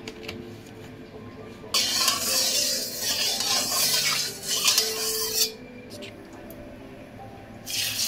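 Oil poured into a hot kadai bursts into a loud, hissing sizzle that runs for several seconds before dropping away. A fresh burst of sizzle returns at the very end, over a quiet kitchen background.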